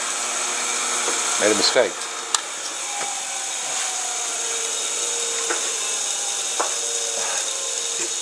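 A chainsaw sharpening grinder whines steadily with brief rising and falling strokes as the chain is worked, while someone speaks briefly over it.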